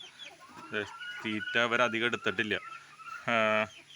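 Nadan pulli native chickens from a Thrissur parent stock of about fourteen hens and one rooster cluck in short bursts, one loud harmonic call near the end, while a person talks over them.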